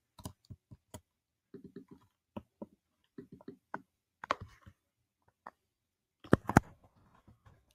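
A computer mouse clicks while a rubric is edited in D2L: sharp, close, isolated clicks in irregular clusters across several seconds, separated by silence.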